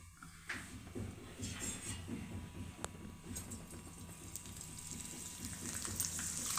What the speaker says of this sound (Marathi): तेल ठेवलंय बघा इथे पापड तळण्यासाठी